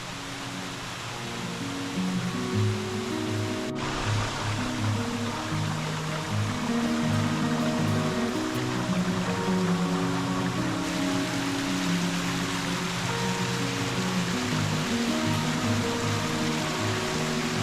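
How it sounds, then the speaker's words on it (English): A long waterfall in the Ozarks, along a hiking trail with storm damage, gives a steady, loud, broadband rush that stays even throughout, with one sharp click near the start and no talking. "I mean, this is a long waterfall"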